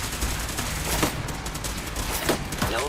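Rapid energy-weapon fire from a plasma infused radium rifle in Fallout 4, a dense run of overlapping bursts with sharp cracks standing out over a constant roar of game noise.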